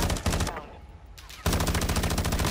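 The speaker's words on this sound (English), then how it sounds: "Watch out, he's shooting at you." Automatic gunfire in Call of Duty: Warzone 2.0, two bursts of rapid shots separated by a short pause, loud and close with no talk.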